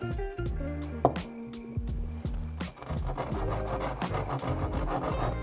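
Polishing the end of an Inconel spin top, a steady abrasive rubbing and rasping that runs the whole time at close range, with short scratchy bursts and no talk.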